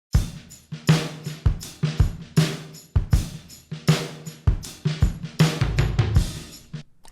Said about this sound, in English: I changed the drum kit back to the legendary Manchester kit